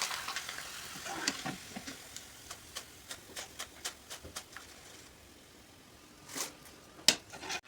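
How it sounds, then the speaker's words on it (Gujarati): Poha being deep-fried in hot oil for a Gujarati farm-style shevdo snack, giving a faint sizzle with a series of sharp crackling pops and ticks spread through, a couple louder near the end. "તો હવે હું તળી નાખું."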